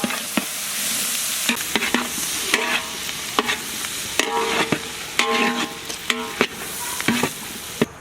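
Onions frying in a pan with raw spices already roasting, a steady close sizzle broken by frequent sharp scrapes and clatters of a spoon stirring, with no talking.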